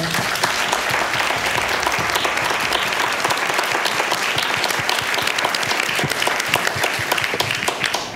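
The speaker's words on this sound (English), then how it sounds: "So I hope you join me in giving them a round of applause." An audience at a live-streamed accountability panel event gives the panelists sustained, dense applause: many hands clapping steadily and loudly for about eight seconds, with no speech over it.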